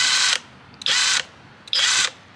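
An OLMLMO 1/2-inch drive cordless impact wrench running at low RPM whirs in three steady bursts with short pauses between, a smooth high-pitched mechanical drone, close and fairly loud.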